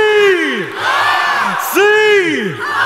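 A conference keynote crowd cheers for the Seahawks with loud whoops, yells and rising hollers in two big waves, close and dense, no speech over it.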